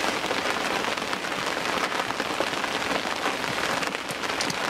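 Heavy, continuous downpour at a reservoir lake, a dense unbroken hiss of rain drumming on surfaces, loud and steady throughout with no voices.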